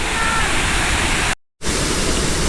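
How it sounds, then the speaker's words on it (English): A large man-made waterfall in Italy, a constant dense rushing roar heard close and loud, with a brief cut to silence partway through. "basically the world's largest man-made waterfall was created."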